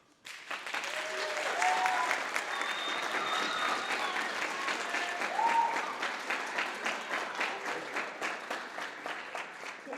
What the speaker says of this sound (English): So, hey students, can we give our parents a round of applause?